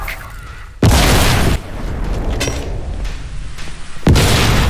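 Grenades explode in Crysis 2: two loud, close blasts with sharp onsets, a rumbling roar trailing between them, then a third explosion near the end.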